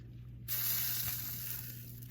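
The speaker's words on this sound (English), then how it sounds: "we're gonna give it a little sizzle test with some water" Water hits the hot griddle on a Weber Performer grill and bursts into a loud, steady hiss that keeps going without a break. A low hum runs underneath throughout.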